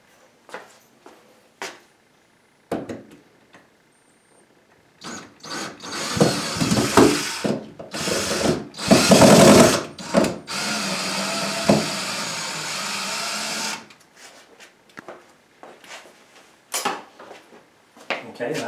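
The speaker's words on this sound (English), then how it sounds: "So we're going to take that screw out as well." Power drill backing a screw out of a lower kitchen cabinet fixed into a beam, a whirring burst of several seconds amid clunks and handling knocks, with a person talking before it.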